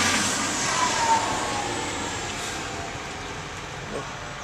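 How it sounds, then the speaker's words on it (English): A fire truck arriving outdoors, heard as a steady, broad engine rumble and road noise that stays fairly loud throughout, with no siren. "another fire truck"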